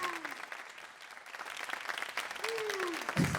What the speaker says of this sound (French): Applaudissez encore pour NCI.